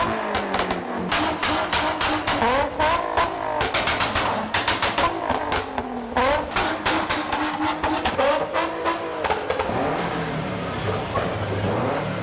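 A Nissan Bluebird pulls away from a busy car meet, its engine loud and close with rapid revving surges and rasping exhaust pulses that steadily fade as it leaves.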